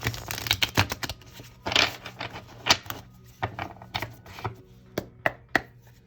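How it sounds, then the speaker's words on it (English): A tarot deck being shuffled in quick bursts of riffling and slapping, irregular and close, with brief pauses between bursts. "Shuffle up the tarot deck for you"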